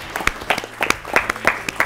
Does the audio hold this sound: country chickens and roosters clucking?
no